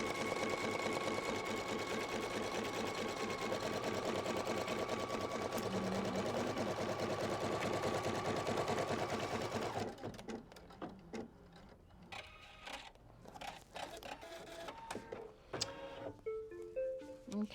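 An embroidery machine stitching out crosshairs on a sticky stabilizer, a fast steady mechanical chatter for about ten seconds, then stopping and giving way to quieter scattered clicks and small handling knocks.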